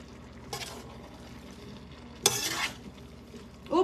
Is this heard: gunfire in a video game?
no